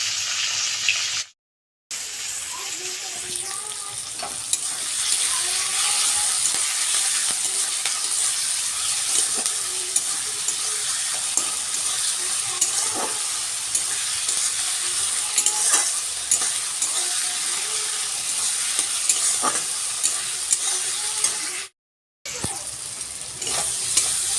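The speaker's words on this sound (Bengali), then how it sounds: "এখানে আমার মাছ ভাজা হচ্ছে" Fish fries in hot oil with a loud, continuous sizzle and frequent sharp spattering pops, heard close up and sustained for a long stretch, broken by two very brief gaps.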